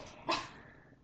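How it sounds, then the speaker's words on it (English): One short bark from a dog indoors, moderately loud against quiet room tone, fading quickly afterward. "the dog's saying hello to somebody."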